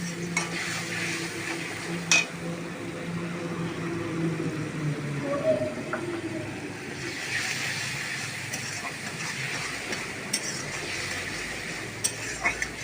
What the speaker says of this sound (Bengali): আর এই হচ্ছে হলুদ আর কাশ্মীরি লঙ্কাটা দিয়ে দিলাম। দিয়ে একটু নেড়ে চেড়ে